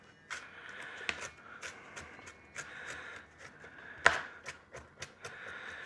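A knife chops shallot on a cutting board for cowboy butter, in irregular sharp close taps with short pauses between bursts and one louder hit, no talking.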